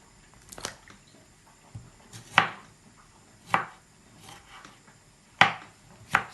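A knife chops through tomato on a board for Nigerian fish stew, giving five or six separate crisp, moist thuds spaced unevenly over several seconds, close and fairly quiet, with no voices.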